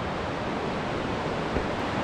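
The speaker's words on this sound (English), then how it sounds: "there is a river inside this cave" An underground river flows inside a karst cave with a steady, dense rushing roar, like surf or strong wind, constant and close, with no voices.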